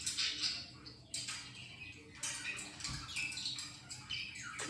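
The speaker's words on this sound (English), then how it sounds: "Come on, Jed, chirp" A pet bird squawks and chirps in its cage, short scratchy calls repeating in bursts, fairly close and loud, with no talking.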